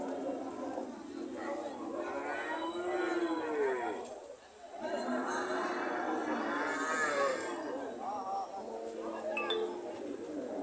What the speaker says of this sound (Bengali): সারি সারি গরু এখনো রয়ে গেছে অনেকগুলা গরু